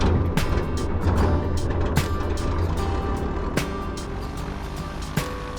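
A light propeller aircraft engine cranks and fires into a rough, steady idle at night on the apron at Shoreham, loud and close with irregular clanks and knocks over the low drone.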